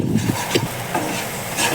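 A single-egg bhurji is stirred and sautéed in a pan, with a continuous soft scraping and rustle under a low sizzle, close up and steady.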